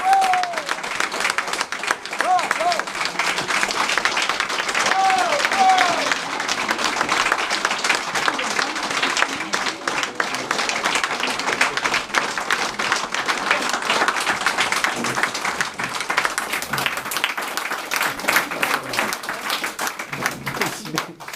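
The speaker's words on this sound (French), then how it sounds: "Vos applaudissements." Wedding guests keep up a long round of applause, dense continuous clapping from a sizable group with occasional whoops and chatter threaded through it, holding steady to the end.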